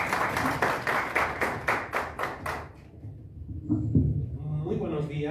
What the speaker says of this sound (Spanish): vamos a dar una bienvenida con aplausos